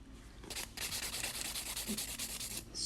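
A nail file rubs across fingernails during a manicure, a soft close scratchy rasp in quick back-and-forth strokes, faint and steady with no voices.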